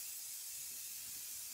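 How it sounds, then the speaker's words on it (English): A spray can hisses as it lays a glaze over a charcoal and acrylic portrait on gesso-coloured paper, giving one faint, continuous, even spray for under two seconds. "I'm going to spray it, give her a glaze, and away we go."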